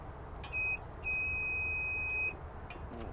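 A multimeter set to continuity gives two steady electronic beeps, a short one and then a longer held tone, against faint background noise while checking behind an appliance panel on a 240 circuit.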